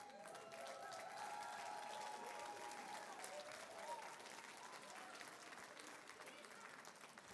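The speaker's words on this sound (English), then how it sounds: "Absolutely a round of applause." Applause from a school board meeting audience honoring school bus drivers for a safety rodeo competition, steady clapping throughout, moderately distant with a faint tone of feedback or a voice near the start.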